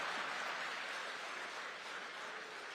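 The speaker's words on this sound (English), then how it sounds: "can we put our hands together again for Mr. President?" Crowd applause for the President at a Nigerian national-interest address, a steady broadband clapping wash held at constant level throughout without talk.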